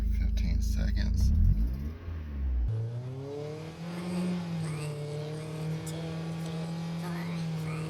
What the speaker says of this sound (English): So let's rev it at 25 RPM for 15 seconds.